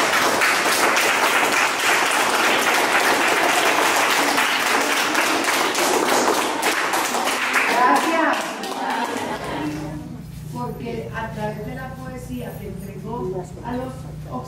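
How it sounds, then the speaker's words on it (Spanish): Dense audience applause for a theatre troupe, steady for about eight seconds before tapering off into speech. "Pido un fuerte aplauso para ellos."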